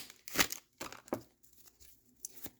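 Tarot cards being shuffled by hand, a few quick papery riffles and soft slaps in separate bursts, close and quiet with pauses in between.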